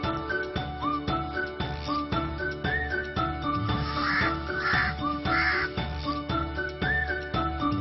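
Crows caw repeatedly at a crow garden in Vidisha, harsh calls overlapping from several birds at moderate distance, with faint tinkling in the background.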